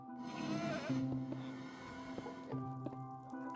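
A goat in a block-building video game bleats several times in close succession. The wavering, nasal calls sit near and fairly quiet over a soft background, with no voices.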